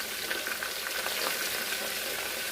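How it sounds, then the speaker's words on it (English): Tilapia fish stew with onions and fresh rosemary is stirred in a pot over the heat, producing an even, soft, hissing sizzle with faint stirring swishes, close and steady with nobody talking. "Just stir everything up."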